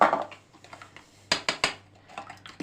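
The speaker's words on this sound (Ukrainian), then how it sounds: "Збовтуємо цю нашу суміш." A utensil clinks and scrapes against a bowl in quick, uneven bursts while whisking pie batter, with a few sharper taps in the middle.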